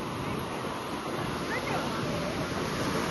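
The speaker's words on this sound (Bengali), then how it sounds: "কি ভালো ঠান্ডা হাওয়া দিচ্ছে।" Sea wind and surf on the beach at Puri, a steady, unbroken roar of wind buffeting the microphone over crashing waves, loud and constant throughout with no gaps.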